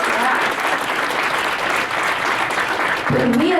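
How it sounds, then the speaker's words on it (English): An audience at a women's policy forum claps in a loud, dense round of applause that runs steadily throughout, with a voice starting to speak over it near the end. "let's give a round of applause for that"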